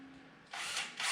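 A power drill bores a hole in work on a wood stove, switching on about halfway through as a short, loud, rough whine with a brief pause and restart.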